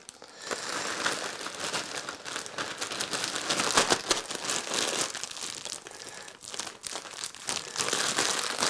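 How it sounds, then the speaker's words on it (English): Close, continuous crinkling and rustling of a plastic bag being handled with cork ball pop-up fishing baits, with irregular crackles throughout and no voices. "Put it in a plastic bag."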